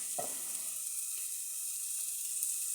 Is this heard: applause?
no